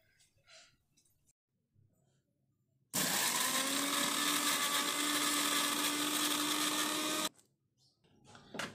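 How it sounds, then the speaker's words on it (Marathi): A mixer grinder grinds masala for a Kolhapuri-style crab curry, roaring loud and steady for about four seconds before stopping abruptly, with quiet room sounds before and after. "आता हा मसाला मी मिक्सरला वाटून दाखवते."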